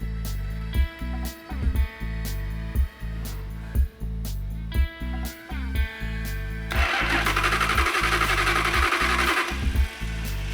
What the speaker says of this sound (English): The engine didn't start like he said it would, or promised it would.